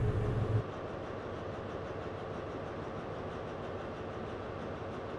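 A train easing to a stop on the Cornish Main Line near Redruth in Train Simulator 2021, a steady low rumble of wheels and rolling stock with a faint rhythmic clatter, continuous and moderately loud throughout.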